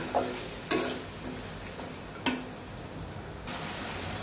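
Taro stirred and fried with spices in a pan, soft scraping strokes over a quiet, steady sizzle, with a few sharper clanks of the utensil against the pan.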